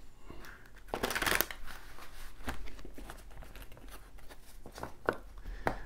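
Close, quiet handling of a tarot card deck during shuffling: a brisk riffling burst, then scattered light taps and card flicks, irregular and without speech.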